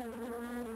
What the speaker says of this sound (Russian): Мухи опять где-то. Где-то летает. Я слышу.